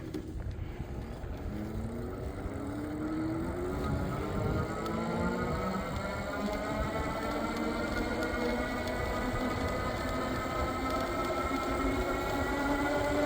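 An Ariel Rider Kepler electric bike climbs a hill on throttle alone with a roughly 200-pound rider, its motor whine rising steadily in pitch over continuous wind and road rumble.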